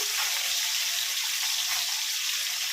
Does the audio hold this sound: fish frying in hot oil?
yes